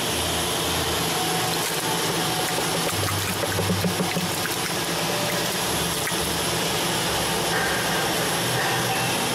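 A screw press dewatering cassava while running slowly at 15 RPM gives a steady, continuous mechanical hum with a wet, trickling wash throughout, fairly loud and unbroken, with no talking.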